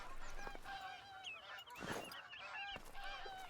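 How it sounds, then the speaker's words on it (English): Canada geese honk repeatedly in an Alberta hunting area of theHunter: Call of the Wild, a flock of overlapping calls sounding at a moderate distance with a faint background. "it's fitting for Canada geese to be on this map of Alberta, Canada"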